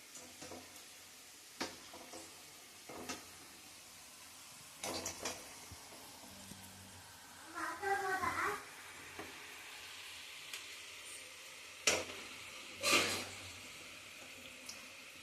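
Karjikai frying in hot oil on a low flame, with scattered clinks and scrapes of stirring and two louder bursts of crackling sizzle, close and without talking.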